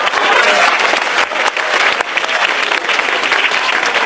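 Applause from the crowd at a stand-up comedy show, a loud and dense wash of clapping with scattered sharper claps, sustained for about four seconds with no talk over it.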